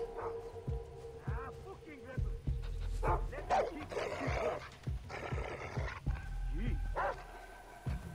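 Dogs bark repeatedly in the video game Far Cry 3, a string of gruff barks and growls amid game noise, with someone talking over them.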